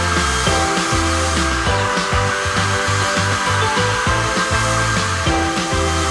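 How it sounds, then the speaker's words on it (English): A blow dryer runs continuously up close, blowing hot air over wax-coated canvas shoes. Its steady whirring hum carries a fluctuating, rattling tone throughout. "take a blow dryer to it."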